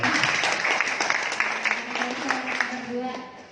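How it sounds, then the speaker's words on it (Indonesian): Audience applause at a motivational talk, a lively patter of clapping hands with a voice speaking over it, easing slightly toward the end. "Tepuk tangan dong buat kita"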